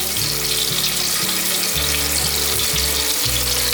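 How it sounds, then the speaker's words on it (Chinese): Celery pieces and ginger slices stir-fry in hot oil for a vegan bitter gourd dish, giving a dense, continuous close sizzle with no voices. "油热了之后，放入芹菜段、姜片，把芹菜和姜片炒香。"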